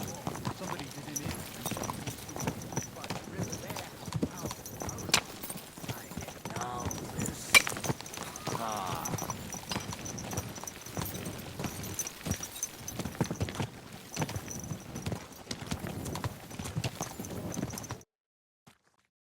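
Horse hooves clip-clop steadily while riding in Kingdom Come: Deliverance II, a continuous rhythmic trot under game ambience and spoken dialogue, stopping abruptly near the end.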